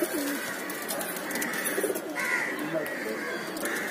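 Pigeons in a loft cooing close by, soft repeated throaty coos layered over a steady murmur of other birds, with someone talking over them.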